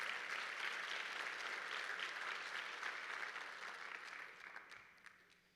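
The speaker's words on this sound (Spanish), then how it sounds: "denles aplauso bien fuerte al Señor" A church congregation applauds steadily and fairly loudly for several seconds, the clapping slowly thinning and fading toward the end.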